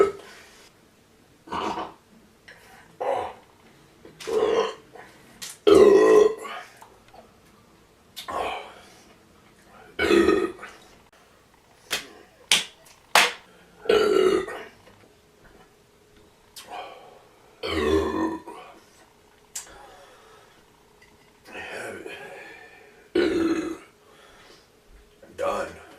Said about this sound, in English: That was a good burp right there.